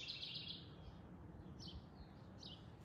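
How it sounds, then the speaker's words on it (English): Birds chirp outdoors beside a greenhouse, with a short burst of high twittering at the start and a couple of brief, fainter tweets later, set against a quiet low background rumble. "You can hear how happy the birds are right now."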